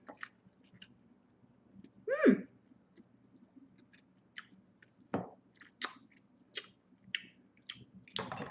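Close, quiet chewing and biting of food during a mukbang, with soft wet crunches and smacks coming in irregular bursts against a near-silent background.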